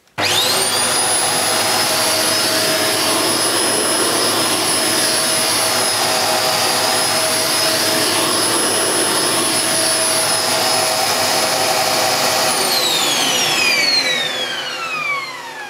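Hoover Globe GL1103 bagless upright vacuum cleaner running steadily while picking up large wood shavings, a loud continuous motor whine with a high tonal pitch that winds down near the end; no talking.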